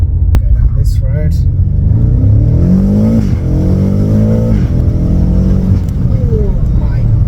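A BMW F90 M5 drives and accelerates hard on a winding road, its engine note rising in repeated loud upward sweeps between gear changes, with close, continuous rumble and occasional voice underneath.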